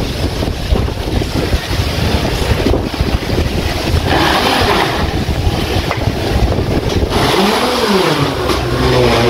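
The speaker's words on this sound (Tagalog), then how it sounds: "oh, lakas ng hangin" Strong wind roars and buffets the microphone continuously, a loud rushing gust with low rumbling bursts, no voices.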